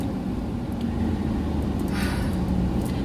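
Car driving, a steady, close rumble of engine and road noise with no other clear sounds for about three seconds.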